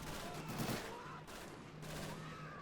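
Sustained gunfire from .30 caliber machine guns in the World War II strategy game Men of War Assault, a dense rattling fusillade in steady bursts that keeps going throughout with no pause.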